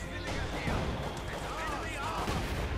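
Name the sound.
mortar and artillery fire in Company of Heroes 2, video game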